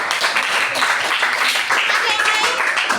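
A group applauds participants at a reproductive health discussion, with steady dense clapping from many hands throughout and voices mixed in.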